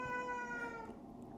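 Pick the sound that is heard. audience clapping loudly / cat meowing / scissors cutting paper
cat meowing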